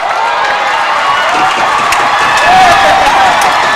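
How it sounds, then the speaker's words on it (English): A crowd at a high school varsity football game cheers and claps, loud and close, swelling toward the end. "And the crowd is loving it."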